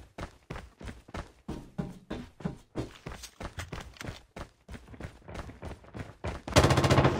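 Gunfire in Call of Duty Mobile, a steady string of sharp, evenly spaced shots lasting several seconds, ending in a louder, denser burst at the close.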